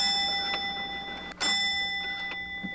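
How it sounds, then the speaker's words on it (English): Bell on a 1903 steam engine rings with steady, sustained metallic tones, struck once sharply midway and ringing on, with faint machinery ticking underneath. "The bell allows communication."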